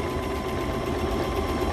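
A sewing machine runs steadily while stitching over the fabric ears of a kids' bunny sewing kit, a continuous close motor hum with fine rapid vibration and no pauses.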